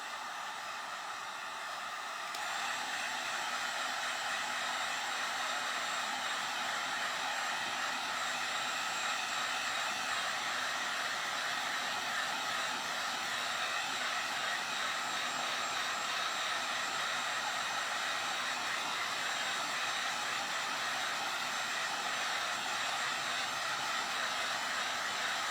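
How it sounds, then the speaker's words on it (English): A heat gun blows steadily on a thin clear plastic ornament, a constant loud airy rush that switches on after a couple of seconds and holds unchanged to the end. "We're going to put the heating gun on it again."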